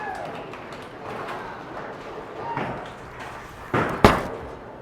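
A hybrid bowling ball rumbles down the lane, then slams into the pins with a brief, loud crash and clatter near the end.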